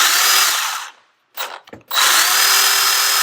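A Milwaukee M12 Hatchet 6-inch cordless chainsaw runs at a loud, high whine close by, drops out for a moment with a couple of short bursts, then spins back up to full speed.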